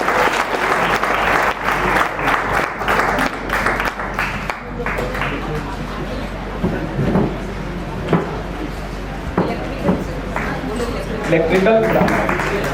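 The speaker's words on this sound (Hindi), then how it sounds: "आपकी हाथें थकनी नहीं चाहिए और तालियों की गड़गड़ाहट रुकनी नहीं चाहिए" Sustained loud applause from an audience at an Engineer's Day event at a polytechnic in Patna, dense continuous clapping with a few sharper claps standing out, nearby and filling the room.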